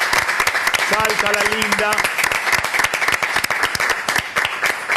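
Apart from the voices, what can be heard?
audience applause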